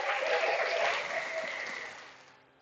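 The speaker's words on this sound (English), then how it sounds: "So we're applauding walks now." A baseball crowd at a youth tournament championship applauds after a walk, a dense wash of clapping that holds steady, then gradually thins and fades away.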